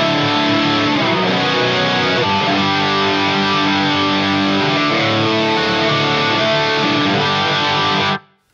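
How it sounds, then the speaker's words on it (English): Electric guitar through an Axe-Fx with a Dimension 1 chorus, playing a thick, wide, driven chord passage that rings steadily for several seconds before cutting off abruptly. "mostly the chorus, I'll kick in the chorus."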